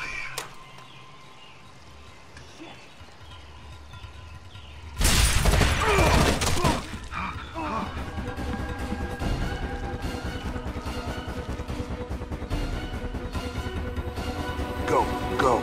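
A frag grenade in Rainbow Six Vegas 2 bursts in one loud, sudden blast partway through, followed by sustained noisy combat din after a quieter lead-in.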